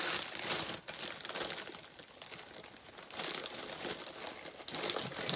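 Continuous rustling and crinkling as soft, dry moss is handled and pressed into place, close up with no talking.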